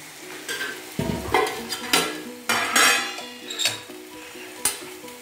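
Cauliflower, beans, carrots and peanuts with dry spices frying in a pan for spicy South Indian bisibelebath, with repeated spoon stirs and scrapes against the metal over a crackling sizzle, close and fairly loud.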